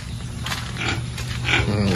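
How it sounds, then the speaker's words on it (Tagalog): Pigs in a farm pen grunt and snort in low, rough bursts close by, over a steady background hum of the barn. "At yung mga baboy sa kabila din po na hiwalay na sa ina."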